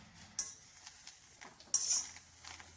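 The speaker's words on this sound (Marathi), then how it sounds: "आता कढईत गवार टाकलेली आहे आणि छान अशी मी त्याला भाजून घेत आहे" Quiet dry roasting of cluster beans in an iron wok, with a spatula scraping and clinking against the wok in a few sharp strokes over a faint sizzle.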